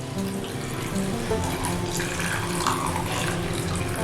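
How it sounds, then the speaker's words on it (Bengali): Fresh chhana curds, made with vinegar, are rinsed under a running kitchen tap, giving a steady, moderately loud splash and gurgle of water throughout. "এবার ছানাগুলোকে জল দিয়ে ভালো করে ধুয়ে নিতে হবে, যাতে ভিনিগারের টক ভাব ছানার মধ্যে না থাকে।"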